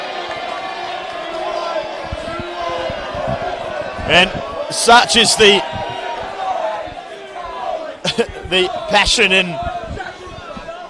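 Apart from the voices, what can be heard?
football crowd cheering and jeering after near miss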